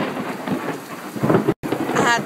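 Thunder rumbling through a rainstorm over a constant patter of rain, swelling to a loud crack near the end with a brief dropout in the sound.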